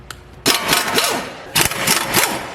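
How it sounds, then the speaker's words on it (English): A Snap-On 1/2-inch impact wrench with a 17mm wobble socket works on the front wheel bearing of a 2005-2015 two-wheel-drive Tacoma, firing two loud, close hammering bursts of about a second each, separated by a short pause. "1/2" snap-on impact with this sweet little 17mm wobbly socket"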